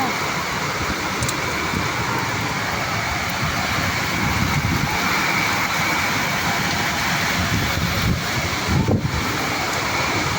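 A heavy evening rainstorm with strong wind produces a dense, steady roar of rain and gusting air. It stays loud and constant for the whole stretch with no clear voices.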